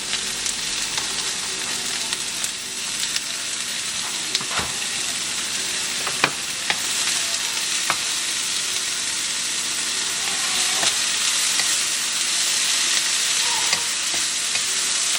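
Steady sizzling of chicken frying in a pan for lumpia, a continuous crackling hiss with occasional stirring clicks and scrapes, close and loud.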